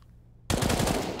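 A Counter-Strike match on the Mirage map at a professional tournament, with sudden loud rapid gunfire erupting after a brief quiet moment and continuing as a dense sustained burst.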